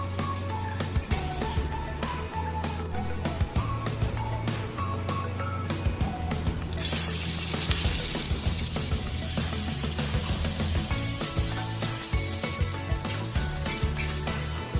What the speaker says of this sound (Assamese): এতিয়া এইখিনি মই 10 মিনিটমান সময় ধুনীয়াকৈ ভাজি ল'ম